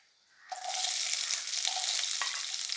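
Shallots drop into hot oil already holding mustard seeds and dried red chillies, setting off a sudden loud, steady sizzle that continues close up with no talking.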